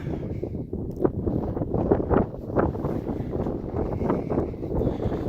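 Wind buffeting the microphone on the summit of Grays Peak, a Colorado fourteener near Torreys Peak, a steady rough roar with gusty swells throughout and no voice.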